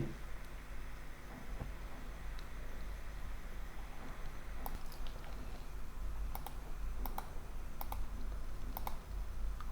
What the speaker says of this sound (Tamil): இது இன்சர்ட் நேம் நான் டைப் பண்ணுறேன்.